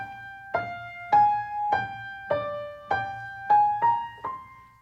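A piano plays a short original fugue subject as a single melodic line of about eight distinct notes, each with a clear struck attack and ringing decay, heard alone in a quiet room.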